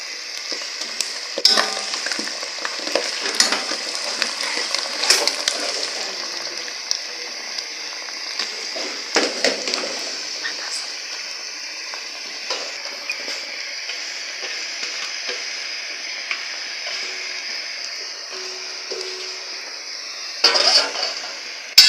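Vegetables frying and sizzling in a pan for Cameroonian Nkwa Zap, a steady close hiss with bursts of stirring scrapes and clatter, then settling into an even sizzle with a louder flurry near the end.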